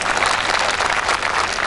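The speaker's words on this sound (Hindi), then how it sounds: "आप लोग ताली बजाइए" Sustained audience applause at an all-India women poets' gathering in Surat, a dense, even wash of many hands clapping close and loud throughout, with no speech over it.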